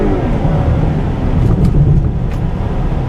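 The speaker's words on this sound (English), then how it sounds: "And going over the railroad tracks," A 2013 GMC Acadia Denali rolls over railroad tracks. A steady low road and engine rumble carries through, with a few soft thumps from the crossing.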